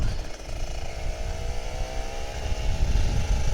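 A Kawasaki Ninja RR 150 motorcycle rides through quiet early-morning Jakarta streets, its two-stroke engine buzzing steadily and rising slightly in pitch as it accelerates, heard close with wind noise.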